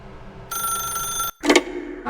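A telephone rings inside the video game The Stanley Parable, a sharp electronic ring that stops abruptly before a short voice sound and a brief resumption.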